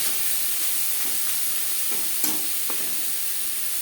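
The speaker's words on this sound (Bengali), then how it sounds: "বাঁধাকপি মশলার সাথে গাজর ও বাঁধাকপি বেশ ভালো করে মিক্স করে দেবো" Grated carrot and shredded cabbage with spices are stirred in a hot pan, a steady close sizzle with a few soft scraping strokes of the spatula and no talk.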